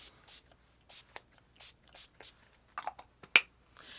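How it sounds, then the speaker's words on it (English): A short burst of face mist spray hisses once near the end, after a run of quiet, scattered handling clicks and taps. "I'm going to start with my Paradise Refresh face mist."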